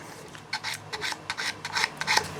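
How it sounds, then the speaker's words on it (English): Repeated short rasping strokes of sandpaper on small hard stegosaurus model parts, close up, in an irregular back-and-forth rhythm with no talking. "I'm going to give them a bit of a sanding"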